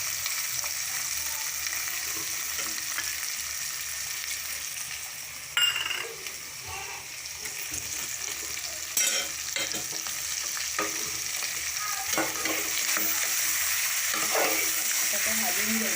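Kanta fish coated in turmeric, salt and chutney sizzles steadily in a frying pan while being stirred gently, with scraping utensil clicks and occasional louder clatters over the continuous fry.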